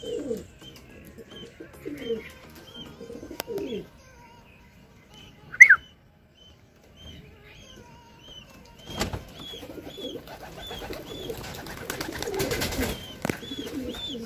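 Racing pigeons that have just landed at the end of a 184 km derby race give soft, scattered coos and a brief chirp, fairly quiet and distant, over a background rumble that builds toward the end.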